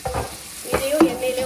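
Handful of coriander leaves frying and being stirred in hot oil in a large pot for a 4 kg mutton biryani, with a soft continuous sizzle and occasional scraping stirs, close and moderately quiet.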